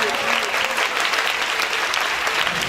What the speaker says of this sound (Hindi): जोरदार तालियां बजाएंगे यीशु के जलाल के लिए।